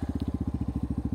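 A cold 2011 Yamaha XTZ 250 motorcycle with 77,000 km runs just after starting, its single-cylinder engine chugging in a steady, quick, even beat, close and moderately loud.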